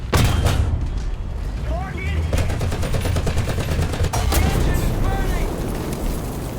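Heavy gunfire in a video game shooter, with rapid bursts and booming shots that keep up loudly and continuously across the whole stretch, and a voice talking underneath.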